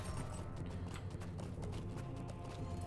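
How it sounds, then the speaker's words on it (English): Horse hooves clip-clop in a steady rhythm in the video game Lord of the Rings Online, layered over ambient game sound at a moderate, even level. "There's a horse over here."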